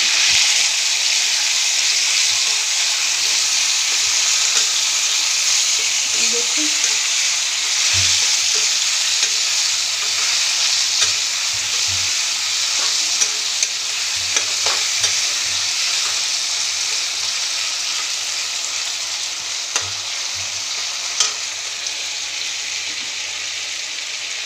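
Potatoes, pointed gourd and soybean chunks fry in a pan, a loud, continuous close-up sizzle with occasional soft clicks of stirring and scraping throughout; no voices.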